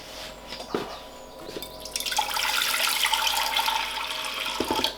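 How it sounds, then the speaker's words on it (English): Warmed water poured from a bowl to soak a reptile enclosure, a steady splashing trickle building up and running continuously for several seconds, close by. "I take the water that's already warmed up from the bowl, give it a good soaking all the way through"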